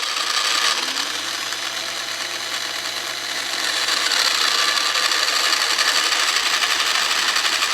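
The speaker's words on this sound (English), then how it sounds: "Here's a little example of the rear diff action." Open rear differential of a Kyosho Outlaw Rampage Pro RC car spinning, giving a steady close whirring, grinding rasp that grows slightly louder midway, with no talk.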